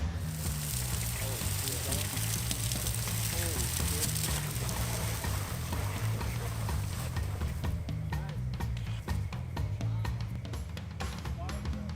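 A fire extinguisher discharges onto a burning fire outdoors, making a loud, continuous rushing hiss and crackle that persists throughout, with a person talking under it.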